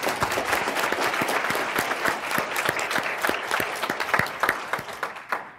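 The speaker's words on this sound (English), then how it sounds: "Can we just give them a quick round of applause?" A conference audience at the HILT Conference 2014 claps for a group of people in the room, a steady round of applause from a moderately sized crowd that lasts several seconds and thins slightly toward the end.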